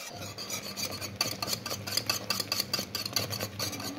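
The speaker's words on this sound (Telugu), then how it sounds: "ఇప్పుడు ఇంకా బాగా కలుపుతున్నాం" A thick flour batter for asida is stirred and scraped steadily in a pot, giving a continuous rasping, rubbing sound at close range with no talking.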